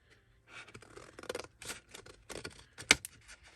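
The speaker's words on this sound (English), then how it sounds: "I'm going to cut this full front piece off." Scissors snipping through the front panel of a paper gift bag, a series of close crisp cuts with small rustles of paper and a bright metallic click near the end.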